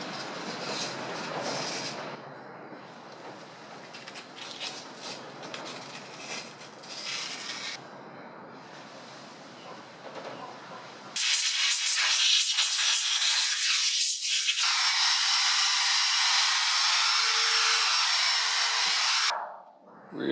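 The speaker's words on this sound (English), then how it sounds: "A little wet sanding on the rusty inside here." Wet sanding rust from the inside of a 35-year-old motorcycle part, a steady close abrasive hiss and scrubbing with short pauses, becoming a louder continuous rasp partway through before stopping abruptly near the end.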